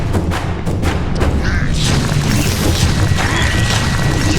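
A magic shotgun spell going off in the dungeon crawler Prevent The Fall, a dense crashing burst with booming impacts over a loud, continuous rumbling game soundscape.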